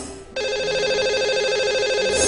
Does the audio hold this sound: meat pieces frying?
no